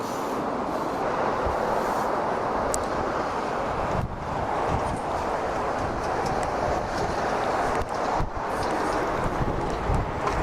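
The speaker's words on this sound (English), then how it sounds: "I know it's a little bit windy out here" Steady, heavy wind buffeting the microphone outdoors at a car show, a constant low roaring rumble with brief dips, no voices.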